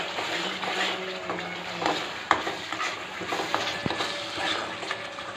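Curry leaves sizzling in hot oil in a pan for crab gravy, a steady crackling fry with occasional stirring scrapes and a sharp clink of utensil against pan.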